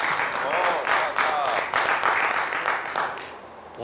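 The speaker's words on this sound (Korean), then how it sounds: "아시아 팀의 이 박스에서 박수가 나왔습니다" Applause from the Asian team's box at a three-cushion billiards match in the Continental Cup, steady clapping throughout with a commentator talking over it.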